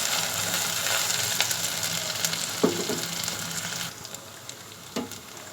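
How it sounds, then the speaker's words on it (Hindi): Garlic sizzles and fries in a hot pan while cooking chana dal, a steady close hiss with a few scraping stir clicks partway through. "लहसुन डाल के अब हम इसको भूनेंगे"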